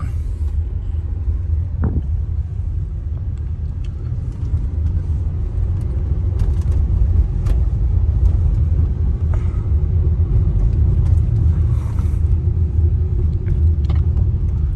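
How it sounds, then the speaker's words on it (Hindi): Car engine rumbling steadily as it is driven during a first-day driving lesson, with a slight rise in engine loudness partway through as third gear is engaged; close, continuous interior sound with no talk. "अब मैं थर्ड गियर डालूंगा"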